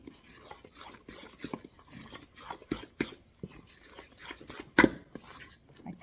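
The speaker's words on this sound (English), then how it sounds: "I'm going to put this in here, and I'm going to partially stir it before I take it over to the mixer" Batter of flour, sugar, baking powder and milk for a peach cobbler being stirred by hand in a bowl, soft irregular scrapes and clinks of a utensil, close and fairly quiet, with one sharper knock near the end.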